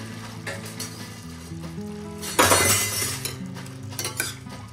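Boiled chickpeas tipped into a pot of yogurt and stirred, with a burst of wet sizzle and splash midway, light metal spoon clinks against the pot, and steady kitchen noise throughout.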